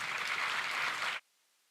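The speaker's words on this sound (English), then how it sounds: "I'd like all of you to give a huge round of applause for it." Large audience at a university student induction ceremony gives a steady, full round of applause that cuts off abruptly after about a second, leaving near silence.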